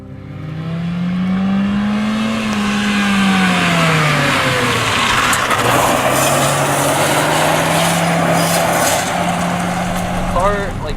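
A 2009 Honda Fit Sport engine drones steadily while driving, loud and close, with pitch rising and falling through gear changes, and talk is heard over it.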